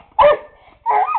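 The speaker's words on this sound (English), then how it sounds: "I didn't know dogs could bark with their mouth open, but Scrubby!" A pet dog gives two sharp, loud barks close by, the second one longer and wavering, separated by a brief quiet gap.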